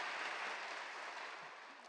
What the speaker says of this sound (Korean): 오늘 은혜의 말씀을 전해주신 서승범 선교사님께 감사의 박수 드리겠습니다